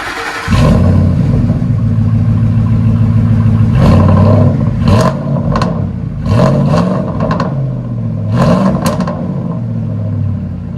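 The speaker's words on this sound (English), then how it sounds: "We'll let you guys hear it in a minute. There's the Y-pipe duals right there." Ford F-150 with a 5.4L Triton V8 and Y-pipe dual exhaust revving hard several times, each throttle blip rising and falling over a steady, rumbling idle, loud and close with no talking.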